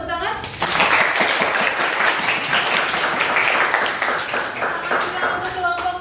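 Class of students clapping for a group presentation, a brisk, close round of applause starting abruptly and continuing steadily, with scattered children's voices mixed in.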